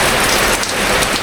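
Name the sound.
heavy rain falling outside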